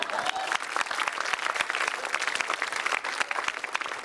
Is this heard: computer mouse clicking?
no